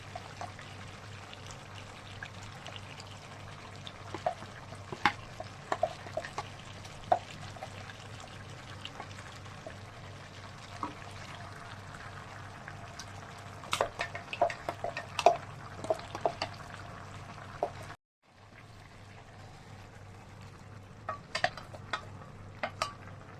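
Ground masala paste being stirred into a pan of nattu masala chicken fry, with soft sizzling and scattered scraping clicks from the spoon and a brief drop in sound near the end.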